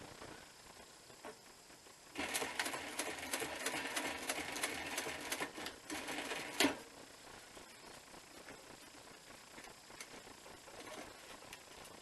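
A sewing machine stitches a bushcraft working vest in a steady fast rattling run lasting several seconds, then stops abruptly. Quieter handling noise and room tone come before and after the run.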